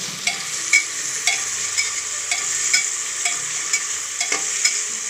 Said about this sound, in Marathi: आता याला चांगलं थोडंसं परतून घेऊ।